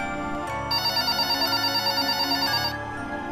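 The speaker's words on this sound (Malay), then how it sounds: "telefon rumah saya berbunyi." A house telephone rings as a sound effect in a narrated Malay ghost story, giving a steady electronic trill of repeated pulses over a soft musical bed. It is clear and fairly loud, with no voice over it.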